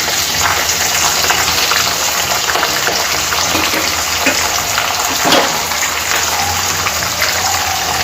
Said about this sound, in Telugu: మిర్చి మొత్తం ఫ్రై అవ్వాలండి